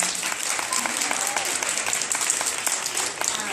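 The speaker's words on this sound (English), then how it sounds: "we would like to give you a big hand clap" An audience at a school Black History event claps steadily and densely throughout, a sustained wash of applause at even loudness with no voices standing out.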